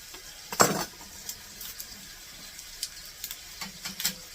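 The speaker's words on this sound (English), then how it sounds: "Now I'm going to put some onion in there" Chopped onion drops into a hot pan for smothered chicken, giving a sharp sizzle followed by scattered scraping and clinking of stirring, moderately close.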